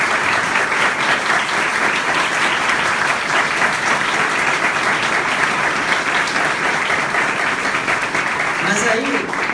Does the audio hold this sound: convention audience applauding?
yes